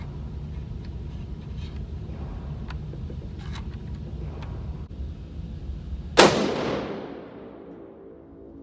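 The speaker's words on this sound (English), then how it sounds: "there's 10 shots, and it's pretty close" A single loud, sharp gunshot cracks while a Sig Romeo 5 red dot sight is tested, then rings out into a long, fading echo over steady low background rumble.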